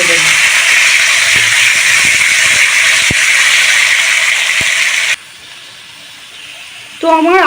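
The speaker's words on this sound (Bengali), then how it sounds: "আলু পেঁপেটা দিয়ে খুব ভালো করে নাড়িয়ে দেবো, নাড়িয়ে আমি ভাজার জন্য ছেড়ে দেবো।" Chunks of potato and papaya fry in hot oil with a loud, steady sizzling hiss for about five seconds, then the sound drops to a quieter background before a voice comes in at the end.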